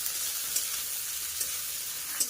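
Chopped onions and garlic fry in oil in a pan, giving a steady, close hiss of sizzling broken by a few small pops, with no talking.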